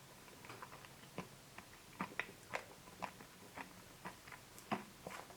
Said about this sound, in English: Maybe you can hear that crunch while I'm chewing down on this